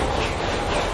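A high-speed train running steadily on rails, a continuous dense rumbling roar with a faint rhythmic wheel clatter, heard close and loud throughout.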